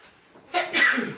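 A single close, sudden human sneeze with a short intake followed by a sharp, loud burst, heard during a casual podcast-style conversation.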